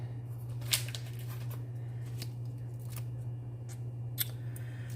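Scissors trimming a stamped paper sentiment, a few crisp snips spaced irregularly over a quiet steady hum, close and fairly soft, with no voices.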